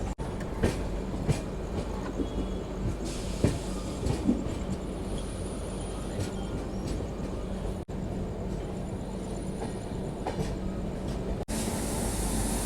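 A train at Solapur station rumbles and clatters steadily, with a continuous rail noise and occasional wheel clicks and squeals.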